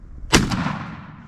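A single loud shotgun blast fired at a turkey during a spring hunt on public land, with a sharp crack followed by a rolling outdoor echo that fades slowly.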